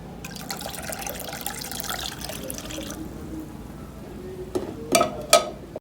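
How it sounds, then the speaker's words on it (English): A fat-burner juice being mixed gives soft liquid sloshing and stirring at first, then quieter trickles and a few sharp drips or clinks of a utensil against the container near the end. "All right, so I mix everything here."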